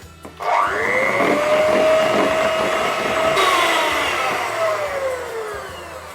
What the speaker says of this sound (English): take your electric whisk, or hand whisk again, and just beat that until it is a whipped cream